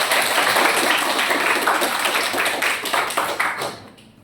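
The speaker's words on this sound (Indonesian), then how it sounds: "Sudah, berikan aplaus untuk Mas Arya" A classroom audience gives a presenter a burst of loud, dense applause that stays full for about three seconds, then thins out and fades to a few scattered claps.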